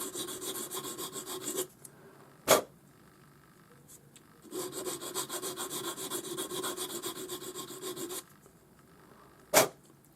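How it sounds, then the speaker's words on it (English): Close, steady rasping strokes come from sanding back the sharp stamped edge of a sterling silver setting for a forged opal ring, in two long sustained bursts, each followed by a sharp tap, with no voice. "So I prefer to just sand that back a little."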